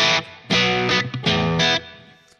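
Two or three quick, lightly overdriven electric guitar chords through a Line 6 POD HD500 Vox AC-15 amp model with sag at 0, each ringing briefly before fading out.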